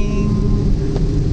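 Heavy road traffic in the rain, a steady close rumble of engines and wet road noise with no clear voices.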